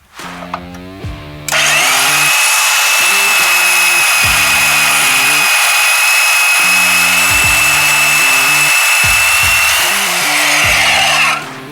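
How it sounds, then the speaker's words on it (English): A bandsaw cuts excess material off a lift kit part for a 2016 Dodge Ram 3500, sounding as a loud, steady high-pitched whine for about ten seconds, close by, with low tonal humming alongside it. "We happen to have a bandsaw, so we're gonna do that."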